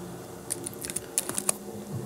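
Someone typing R code on a computer keyboard, with a quiet burst of about a dozen light key clicks in an uneven rhythm, close and faint, with no talking.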